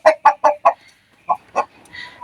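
Ornamental chickens at a farm in Ampara, including Brahma and Cochin breeds, cluck in four quick loud bursts, then two more after a pause, with faint chirps trailing at the end.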